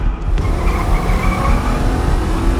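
Car in a Batman video game driving at a barricade, a steady loud engine roar with tire squeal and rumbling road noise throughout, no clear impact.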